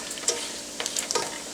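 Butter, about two teaspoons, sizzling in a frying pan while making a bacon swiss mushroom burger, a soft steady crackle with a few small pops, close and alone.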